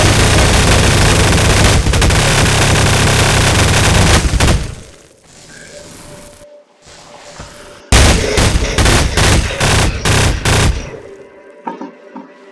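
Gunfire as a sound effect in a narrated horror story: a long, dense, loud burst of rapid shots, then a brief lull and a second, choppier barrage of bangs.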